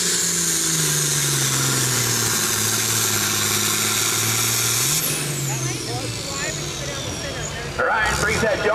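A John Deere 4430 tractor at a truck pull, its engine droning loudly as it winds down to a stop, followed by a brief whining pitch sweep and hissing air-brake-like bursts, with an announcer talking throughout.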